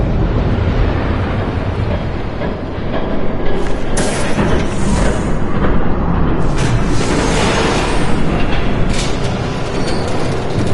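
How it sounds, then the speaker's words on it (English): A train rumbles loudly and steadily in Batman: The Telltale Series, a dense continuous roar with rattling and rising metallic noise as it approaches, with no voices. "There's a train coming."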